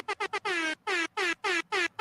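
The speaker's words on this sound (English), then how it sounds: "that one was a good horn sound effect" An air horn blasts in a rhythmic pattern: three short honks, then a long sustained one, followed by several more long blasts separated by brief gaps, loud and close, with no talking.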